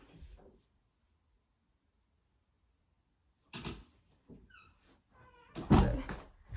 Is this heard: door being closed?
yes